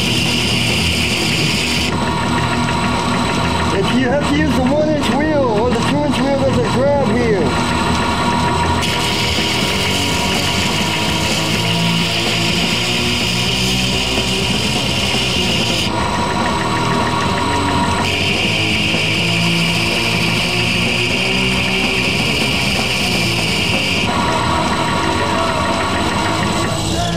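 A grinder hollow grinds a recurve blade of CPM154 steel on a wheel, making a continuous loud whirring rasp that swells and eases in stretches as the steel meets the belt, with no talking.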